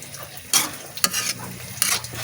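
Squash vegetable dish stirred in a hot pan, three distinct scraping strokes over a soft steady sizzle, close and alone.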